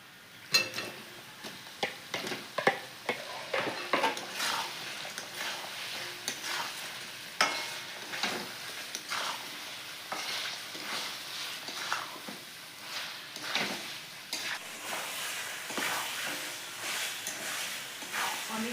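Chicken pieces sizzle and fry in a pan of spiced masala, stirred repeatedly with scraping, clattering strokes over a steady low hiss.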